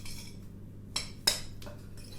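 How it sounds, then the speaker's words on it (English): A spoon works through minced meat and burger ingredients in a bowl, with a low mushy stirring bed broken by two or three sharp metallic clinks against the dish. "Use the side of your spoon if you need to, just to cut the ingredients through into the meat"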